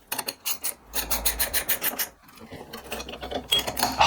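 A wrench tightens brake bolts on an Ultima RS kit car with an AP Racing brake upgrade, giving rapid rasping ratchet strokes in short repeated bursts, close up, with a brief pause midway.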